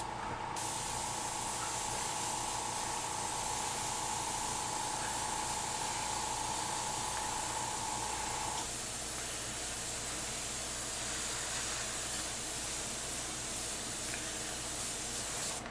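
An airbrush sprays paint in a continuous close hiss that holds steady for the whole stretch, with a faint tonal whine in the first half.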